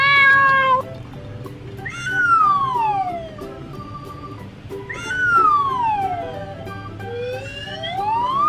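A toy cat gives repeated electronic meows, each a long sliding synthetic cry, three in a row with short pauses between, fairly loud and close, with no talking.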